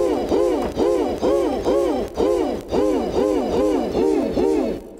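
An organ built from owl garden ornaments plays a snowy owl call, an electronic organ-like repeated swooping hoot, about nine evenly spaced calls in a steady rhythm, close and fairly loud.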